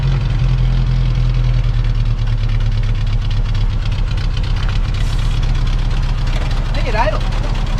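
Toyota Hilux engine idling, a loud, steady low rumble with a continuous knocking pulse, close up, while people talk over it.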